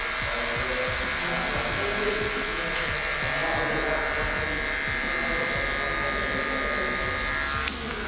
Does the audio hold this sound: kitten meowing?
no